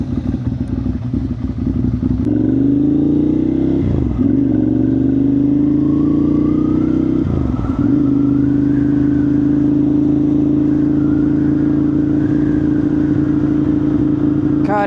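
A Ducati Monster 659 motorcycle rides through a city at night, its mid-range engine droning loud and close, with gear changes and rising revs, a thump or two, and steady wind underneath.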